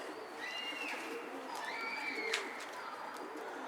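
A pigeon coos softly against a steady background murmur, a few drawn-out calls rising and falling at moderate distance, with a faint crowd-like hum underneath and no clear talk.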